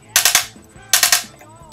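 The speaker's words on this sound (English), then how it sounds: "So you're on burst fire." A Spyder P90 paintball marker fires in burst mode: two quick three-shot bursts of sharp, loud pops, close and separated by a short pause.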